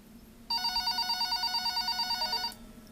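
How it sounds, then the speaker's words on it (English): A telephone on a shop counter rings with a bright, rapid electronic warble, a single loud burst of about two seconds with a fast trilling pulse, then it cuts off abruptly over a quiet room. "the phone on the counter rang"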